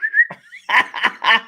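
Someone whistles a short rising and sliding tune up close, followed by a few bursts of laughter-like chatter.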